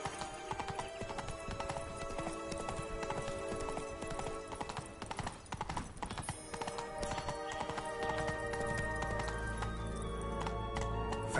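In the Witcher 3 video game, the horse Roach gallops with quick, steady hoofbeats under dense game sound and music, the pace continuing throughout with no speech.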